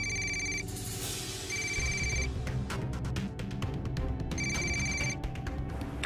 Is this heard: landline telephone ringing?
yes